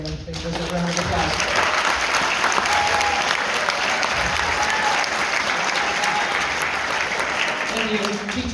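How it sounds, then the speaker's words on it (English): An audience at a high school band Christmas concert breaks into loud, sustained applause that fills the hall for several seconds. "They deserve a round of applause."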